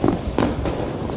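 Diwali firecrackers bursting outdoors at a street celebration, a loud sharp blast followed by a second crack and rumbling echo, close by with no speech over it.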